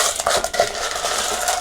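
Nugget ice from a EUHOMY L1 Pro countertop maker scooped and poured into another container, giving a continuous crunchy rattle and clatter of small ice pieces, close and fairly loud, with no talking.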